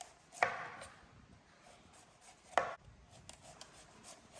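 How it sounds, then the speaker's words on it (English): Taro skin being peeled by hand, giving two or three distinct scraping rasps spaced a couple of seconds apart, close up and fairly quiet with no talking. "And peel off the taro skin too."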